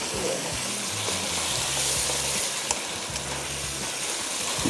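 Beef qeema filling frying in a pan, still drying off its remaining moisture, gives a steady, close hiss and sizzle with soft stirring scrapes throughout.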